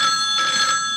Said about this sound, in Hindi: ट्रिंग ट्रिंग करती फोन की घंटियां